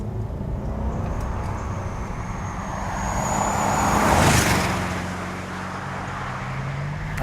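A Bentley Mulsanne Speed with a 6.75-litre twin-turbo V8 gives a low, muffled rumble heard from inside the cabin, swelling to a peak midway and then easing off, with no talk.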